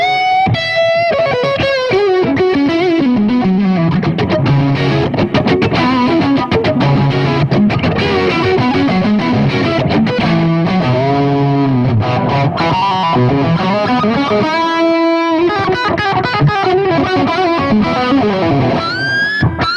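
Electric guitar played through a Boogie EL34 amp on its tight gain channel, a continuous distorted lead line with sustained bends and chugging passages, loud and upfront with no voices.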